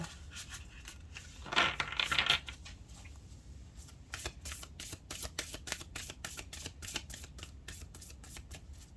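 A deck of oracle cards is shuffled close up: a brief riffling burst, then a long run of rapid, evenly spaced crisp card flicks.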